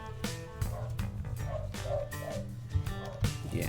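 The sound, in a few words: dog barking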